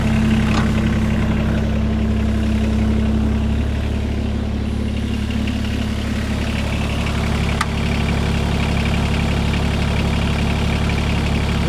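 Kioti CS2530 tractor engine idling after being parked and throttled down, a steady low, loud diesel rumble with an even drone that holds unchanged throughout, close by and with no talking.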